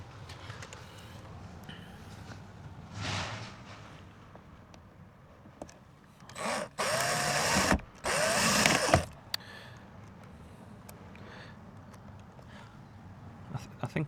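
A power screwdriver whirs in two loud bursts, with a shorter one earlier, driving screws inside a VW T4 van, its motor whine cutting off sharply between runs against a quiet interior background.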